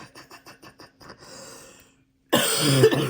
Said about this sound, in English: I'm getting a bit tired of this cough